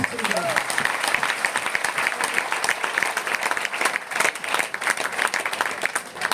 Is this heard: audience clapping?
yes